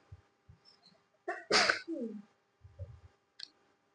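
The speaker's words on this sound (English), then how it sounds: "Dab your sneezes away." A single sharp, loud sneeze bursts out mid-clip, framed by a few soft low thumps and small clicks before and after in an otherwise quiet room.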